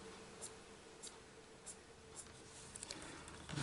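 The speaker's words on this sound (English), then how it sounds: "Putting my pencil where I want it to start and just flicking it up." Prismacolor coloured pencil flicks across paper in quick, soft scratchy strokes, spaced roughly every half second, then bunching faster toward the end, quiet and close.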